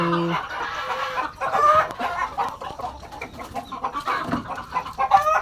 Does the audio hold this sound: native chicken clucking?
yes